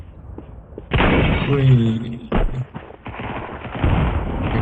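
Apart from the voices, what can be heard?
gunfire in video game Counter-Strike 2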